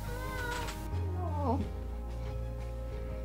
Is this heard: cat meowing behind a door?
yes